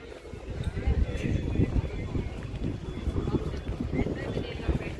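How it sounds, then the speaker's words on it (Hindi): A boat ride on Nakki Lake at Mount Abu brings a steady low rumble of water and wind buffeting the microphone, continuous and moderately loud with no clear engine rhythm; someone talks over it. "तो ये यहाँ पे नक्की झील में बोट राइड है"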